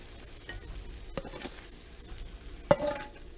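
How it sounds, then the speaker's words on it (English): Mung beans being stir-fried in a pan, a faint sizzle under scattered scraping stirs and a sharper clank of a utensil near the end, close and quiet. "I'm going to stir fry all this"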